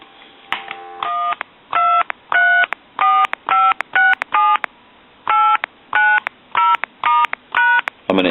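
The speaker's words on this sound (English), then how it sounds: "We're going to go ahead and dial through some numbers here." Touch-tone keys on a donut-shaped telephone with a circular keypad are pressed one after another, each a clear short DTMF beep in a quick, uneven sequence over a quiet background.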